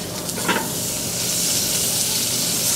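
Assorted vegetables sizzling on a hot plate, a loud continuous hiss of frying with a brief scrape as they are tossed.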